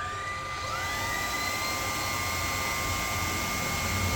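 A Prolux RS7 Pet cordless vacuum cleaner switches on and runs at medium speed, its motor whining up to a steady, loud, high-pitched hum with a constant airy roar.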